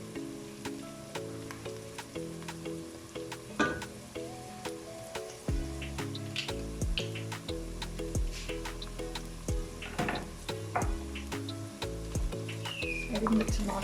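Tomatoes and tomato paste frying with onions in a pan, a steady soft sizzle with occasional stirring clicks and scrapes running throughout under low background music.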